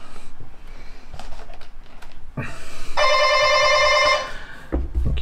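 A flat intercom gives a single harsh, buzzing ring lasting about a second, loud and close, amid quieter scattered room noises before and after.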